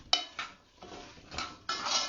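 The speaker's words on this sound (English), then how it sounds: "You stir in." A spoon stirs crumble ingredients in a dish, clinking and scraping against it in several short strokes, close and fairly quiet, with no talk.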